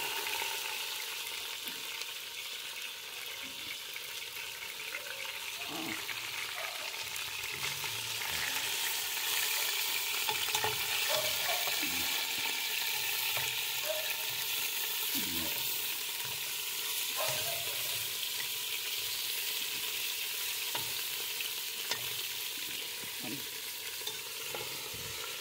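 Food sautéing in a pan for a Sunday family lunch, a steady low sizzle running throughout with occasional stirring clicks and scrapes, fairly quiet and close.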